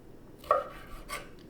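A knife slicing cuttlefish on a board gives a couple of soft, close cutting strokes, the first slightly sharper, in a quiet room.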